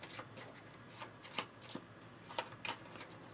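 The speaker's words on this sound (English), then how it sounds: "Shuffle these up." A deck of Ares Expedition game cards is shuffled by hand, with several quick, crisp riffling bursts spread irregularly over a few seconds against a quiet tabletop background.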